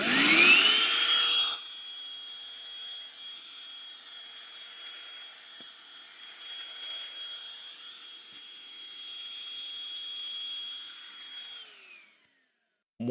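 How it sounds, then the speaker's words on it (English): A Bissell Pet Hair Eraser handheld vacuum runs in a steady, high-pitched whine as it sucks up pet hair, dirt and debris, louder at startup and then holding an even drone before cutting off. "We will vacuum it up with this attachment."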